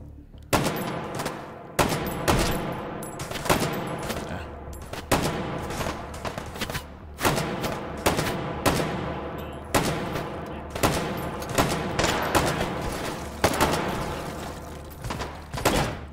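Gunfire in the VR shooter game Take and Hold: loud, close shots crack out in a steady series, roughly a dozen bursts spaced a second or so apart, each with a short decaying tail and no talk over them.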